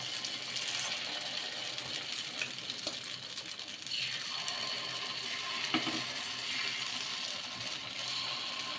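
Ridge gourd pakora batter dropped into hot oil sizzles steadily in a pan, with occasional stirring clatter and a brief watery tap sound partway through.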